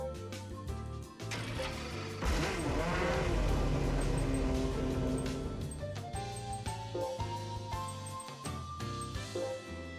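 McLaren F1 engine in Gran Turismo 5, revving and accelerating through the gears with rising and falling pitch, fairly loud and continuous over about ten seconds without talk.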